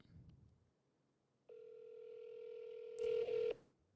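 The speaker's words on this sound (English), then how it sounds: "Let's call the restaurant, huh?" A telephone tone begins partway through a quiet room and holds steady, then two louder, brief dialing tones sound near the end while calling a restaurant. The sound is close and clear, with no talking over it.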